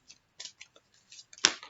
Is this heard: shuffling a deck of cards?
yes